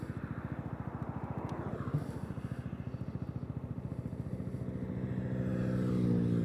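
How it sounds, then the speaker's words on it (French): Zontes 368G scooter engine pulsing steadily while being ridden, a low rhythmic throb that grows louder and fuller toward the end as throttle opens, with wind noise over it. "il est quand même vigoureux le scooter, il est bien calé."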